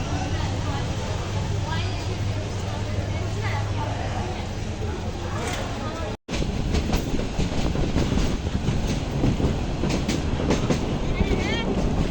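A train rattles along with a steady rhythmic clickety-clack and rumbling wheels, loud and close, with people talking over it and a brief cut midway.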